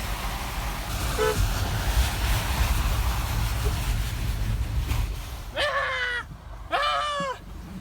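Two loud car horn honks, each about half a second long, sound close by from inside a car during a tire drift test, over a steady rumble of road and engine noise.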